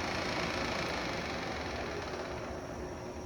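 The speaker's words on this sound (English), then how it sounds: "We're just going to show the spindle, different RPMs" A Milltronics MB-19M Series B CNC bed mill spindle runs steadily, giving a constant mechanical hum and whir that holds even and close throughout with no breaks.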